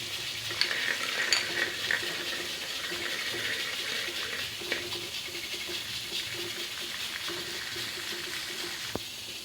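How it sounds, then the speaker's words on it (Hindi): Finely chopped garlic frying in hot oil in a home kitchen pan, a steady close sizzle with occasional stirring scrapes and small clicks continuing throughout, with no talk. "अब ये जो कटा हुआ लहसुन है ना बारीक, मैं इसके अंदर डाल के और इसको लाइट ब्राउन करूँगी।"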